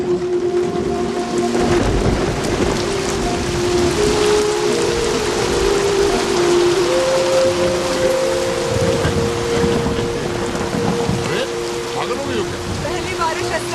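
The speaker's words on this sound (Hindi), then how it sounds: "बारिश होने वाली है" Heavy rain falls steadily with rolling thunder rumbling low beneath it, a continuous loud downpour with deep booms swelling and fading over the whole stretch.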